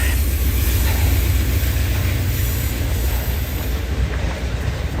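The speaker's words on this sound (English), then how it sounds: "There goes the commuter train." A passing Amtrak train near a running route toward the Washington Monument gives a loud, close, continuous rumble with a faint wheel clatter, steady across the whole stretch and easing slightly near the end.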